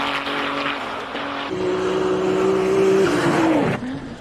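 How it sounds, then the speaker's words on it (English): A Formula One car runs at the Simola hill climb in South Africa, its engine holding a loud, rising high-revving whine that climbs, then drops sharply as it shifts or lifts, heard clearly without speech. "I don't know many facilities, at least in South Africa, that would have let that Formula One car run today"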